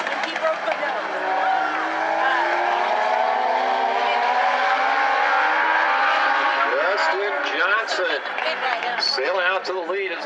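Legends race cars roar around South Sound Speedway coming off turn four, a sustained loud engine drone with rising pitch sweeps as cars pass, while a commentator talks over the racing throughout.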